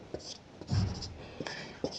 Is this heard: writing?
yes